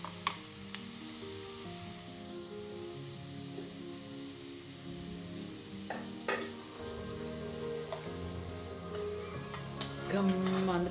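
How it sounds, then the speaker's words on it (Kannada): Onions sizzling in hot oil for a village-style chicken curry tempering, a close, continuous frying crackle with occasional clinks of a stirring spoon on the pan and background music. "ಒಗ್ಗರಣೆ ಪಾಡ್ಗ."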